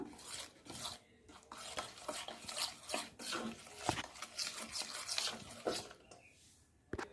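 Biscuit dough with baking soda being mixed in a bowl, a steady run of soft scraping and stirring strokes with faint clinks, quiet and close, no talking.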